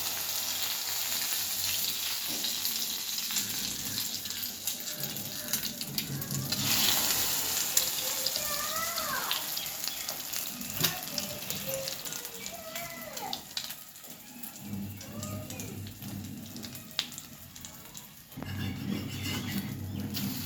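Egg-dipped bread slices fry in a pan as French toast, giving a steady soft sizzle with occasional scraping and stirring noises, fairly quiet, with faint background sounds but no clear talk.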